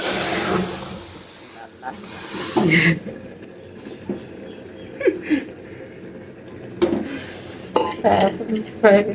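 Cooked dal is poured into a pot in a home kitchen, with metal clinks and scraping of utensils against the cookware and a steady hiss underneath, while a person speaks intermittently.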